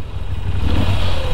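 A Moto Guzzi V7 Stone motorcycle engine revs up, its loud mechanical roar rising and building over a brief moment with no talking.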